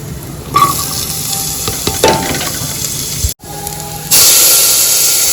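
Cauliflower, potato, onion, tomato, peas and garlic with cumin sizzle and hiss loudly in a pan, the frying noise steady with brief stirring clatters and a sharp surge of sizzling near the end.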